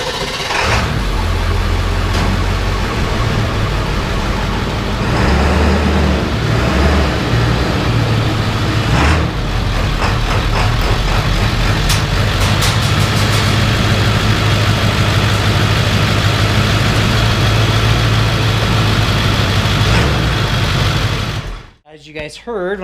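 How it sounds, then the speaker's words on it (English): A 2001 Ford 7.3 Powerstroke diesel truck pulls into a driveway and settles into a loud, steady idle with a deep low rumble and a rough, gruff texture, running nearly the whole time until it cuts off near the end. "As you guys heard when I pulled into the driveway right there, this engine, when it's been sitting for a little bit, has a little bit of grunt"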